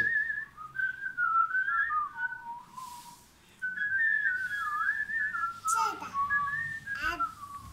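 A person whistles a wandering tune in two long phrases separated by a short pause, close and clear, with a couple of brief knocks or thumps near the end.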